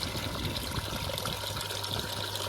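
Water flows from a hose tap with a flow restrictor into a koi pond, making a steady close rushing trickle that runs evenly throughout with no talking.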